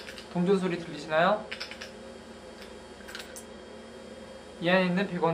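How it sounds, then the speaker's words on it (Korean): Coins shaken inside a cylinder rattle as light, rapid clicking, with a person talking before and after the rattling. "동전 소리 들리시나요?"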